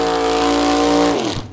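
V8 drag race car running at a drag strip: a loud, steady, buzzing engine drone that holds its pitch, then drops sharply and fades away at the end.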